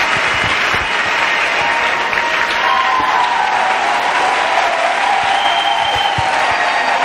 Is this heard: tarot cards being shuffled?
no